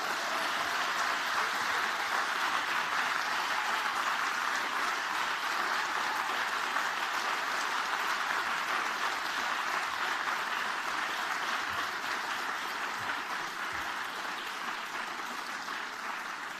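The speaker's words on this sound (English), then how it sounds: "give a big round of applause at the same time to all of our brilliant winners" Steady, dense applause from a large audience for award winners at a learning awards ceremony, continuous and even in level throughout without talk.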